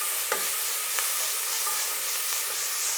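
Onion, garlic and green chili fry in a pan with a steady, close hiss and sizzle, and a few faint stirring scrapes rise above it now and then. No voices.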